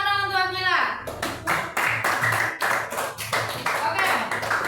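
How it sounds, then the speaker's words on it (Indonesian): Elementary school pupils in a classroom clap for a classmate, a brief voice first, then a run of rhythmic, evenly spaced group claps, close and loud, with voices mixed in. "Kita tepuk tangan dong untuk Akila."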